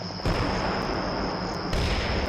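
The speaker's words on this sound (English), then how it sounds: "We're going to wait for more mortar, artillery." Mortar and artillery fire in Combat Mission: Shock Force 2, a dense sustained roar of impacts with a sharp surge in the middle, loud and continuous.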